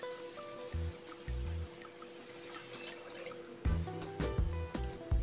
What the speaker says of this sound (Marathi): दोन ग्लास आपल्याला पाणी घालायचं आहे।